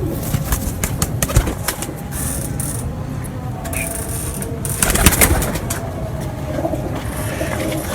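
Outdoor scene around champion racing pigeons at a loft in Haripur, with soft cooing and brief bursts of wing flapping over a steady ambient background, no talking.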